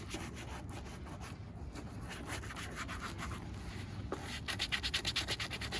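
Shoe polish being rubbed into leather shoes by hand, a steady close scrubbing and rubbing texture that runs throughout and grows slightly louder and more rhythmic near the end, with no talking.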